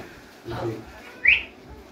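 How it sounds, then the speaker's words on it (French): A short human whistle used to call a small obedient dog, one bright rising note sounding clearly after a brief stretch of faint voice and background noise. "Au sifflet."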